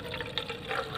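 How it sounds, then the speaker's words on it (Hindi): Water pours into a strained liquid fertilizer mixture for a chrysanthemum spray, a soft, steady splashing trickle heard close and faint, without talk. "चार पाँच गुना पानी डालेंगे"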